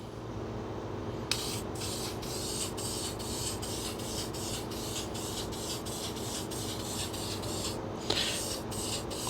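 Blue Dykem layout fluid sprayed from an aerosol can onto metal parts: a continuous close, loud hiss running several seconds with a brief pause, a clicking knock and a short sharper burst near the end, without talk.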